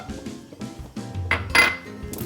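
A large, heavy metal frying pan clatters down onto a stovetop with a couple of knocks and a ringing clank, close and fairly loud.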